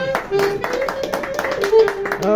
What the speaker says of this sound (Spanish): las palabras de la homenajeada las recibimos con un fuerte voto de aplauso